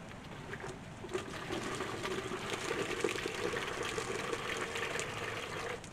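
Water gushes and splashes steadily out of a supposedly sealed container during a leak test, a continuous close pouring rush with no pauses.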